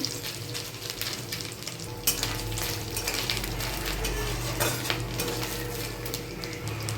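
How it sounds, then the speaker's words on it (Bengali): Chopped coconut pieces lightly frying in oil in a pan for chana dal, a steady close sizzle with clinking utensil and pan scrapes throughout, no talking. "নারকেলটা অল্পই ভাজবো, বেশি লাল করব না, হালকা ভেজে নেব"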